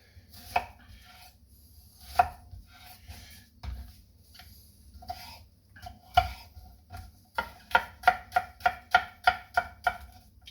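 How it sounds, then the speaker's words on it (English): A knife dicing food on a cutting board for tzatziki sauce: scattered single chops at first, then a quick run of evenly spaced sharp thuds, close and crisp in a quiet room. "we're going to go ahead and dice this up"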